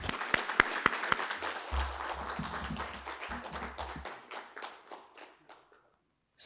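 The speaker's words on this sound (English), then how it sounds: "Let's give her a big round of applause." A small audience claps for a prize winner at a professional CPE event on withholding tax and tax treaties, a scattered round of applause that thins out into a few last claps, with a low rumble underneath.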